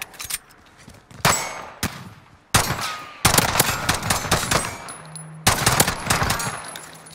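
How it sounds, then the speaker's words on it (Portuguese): Rapid bursts of automatic gunfire from a Call of Duty match crack loudly in several separate volleys, with metallic clanks and short pauses between them. "O cara tava dando tiro em mim aí"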